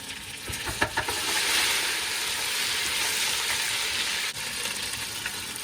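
Ginger garlic paste sizzles loudly in hot oil with browned sliced onions for chickpea pulao, a continuous close frying hiss with a few sharp stirring scrapes near the start.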